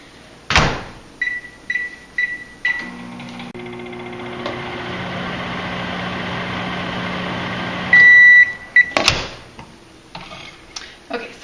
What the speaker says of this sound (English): we're going to microwave that for about 30-second intervals at a time.